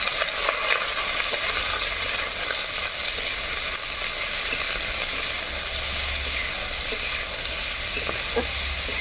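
Ground cabbage paste with salt and turmeric frying in a pan, a steady close sizzle and hiss with occasional stirring scrapes throughout, no talking.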